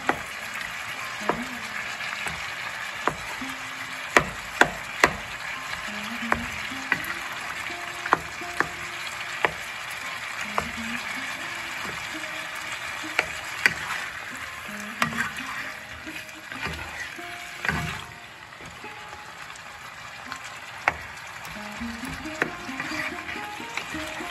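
Boiled potato and tomato are mashed in a frying pan for a cucumber curry, a wet, steady sizzle broken by repeated sharp clicks and scrapes of a utensil against the pan, close and without speech.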